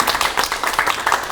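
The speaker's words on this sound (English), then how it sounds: "And parents, I'd like to give you guys a round of applause as well." Parents and guests at a Boy Scout troop court of honor clap together in a steady, moderately loud round of applause that continues throughout without a break.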